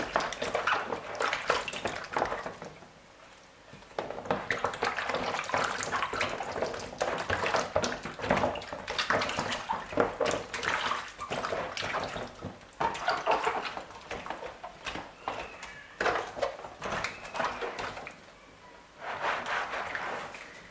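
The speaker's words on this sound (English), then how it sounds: "Make sure to wash twice. Remove, rinse, and wash again." Vegetables are swished and rinsed in a bowl of water, near and continuous. The splashing rises and falls in waves, with brief lulls between handfuls.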